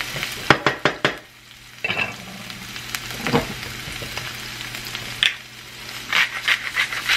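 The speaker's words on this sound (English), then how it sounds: "we're gonna add some chopped onion to this. I'm just gonna cook that for a minute" Chopped onion frying in a pan, a steady sizzle broken by sharp scraping clicks and clatters as it is stirred, with brief lulls and fresh bursts of crackling near the end.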